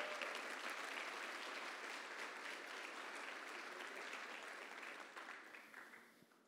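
A church congregation applauds in sustained, dense clapping that fills the space evenly, then thins and fades toward the end.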